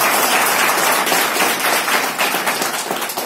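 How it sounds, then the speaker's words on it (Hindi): Audience at a business boot camp speech gives dense, sustained applause, a close wash of many hands clapping without a break, with little talk over it. "फिर एक बार जबरदस्त ताली हो जाए।"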